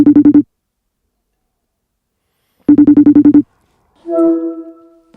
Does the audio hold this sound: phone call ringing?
yes